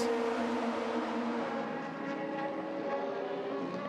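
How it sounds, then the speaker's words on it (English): A Gibson V8 race car engine howls down the home straight during WEC qualifying at Bahrain, a sustained high droning roar with steady pitch that stays strong and distant, with no speech heard. "Doesn't use too much of the curb as the Gibson V8 howls its way down the home straight."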